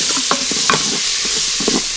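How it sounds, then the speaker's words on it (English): Utensil scraping browned bits from the bottom of a pot while deglazing before pressure cooking one-pot pasta, with a steady sizzle underneath and several short scraping strokes close up. "We need to scrape all of that up"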